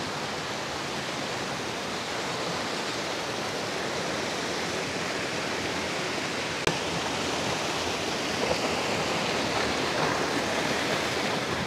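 Rushing river water at St. Anthony Falls on the Tigas River in Indang, Cavite, a steady broadband roar of flowing water, continuous and fairly close, with no voices.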